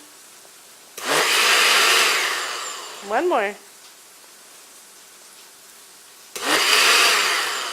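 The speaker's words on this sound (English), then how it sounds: "You can even make a little song out of the blender if you'd like to." A kitchen blender churns meatball ingredients in two loud whirring bursts of a second or more each, separated by a quiet gap in which a short voiced call and brief speech are heard.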